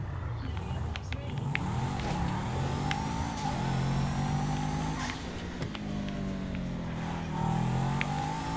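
A car engine hums and revs steadily in Grand Theft Auto V on PS4, a medium engine pulling under acceleration with shifting pitch and occasional clicks, heard close and continuous with faint talk underneath.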